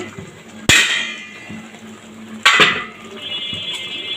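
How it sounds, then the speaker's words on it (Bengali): A metal lid on a cooking pot of chana dal with vegetables clangs sharply twice as it is lifted and set down, each ringing clank fading slowly, with faint clinks between. "ঢাকনাটা নামাচ্ছি।"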